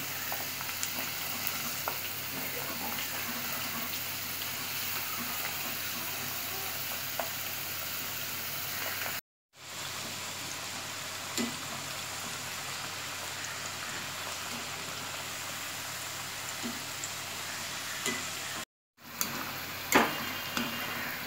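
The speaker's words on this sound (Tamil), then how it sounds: "நம்ம இதை வந்து நல்லா பொறிச்சு எடுக்கணும் பொறுமையாக வெயிட் பண்ணோம்" French fries frying in hot oil, a steady dense sizzle and crackle like rain, close and constant throughout, with two brief dropouts.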